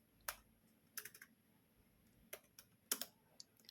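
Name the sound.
typing ABAP code on a computer keyboard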